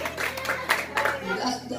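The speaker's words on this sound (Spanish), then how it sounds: "Un aplauso al Señor." A congregation claps in a church service, irregular clapping bursts blended with crowd voices and a faint steady hum underneath.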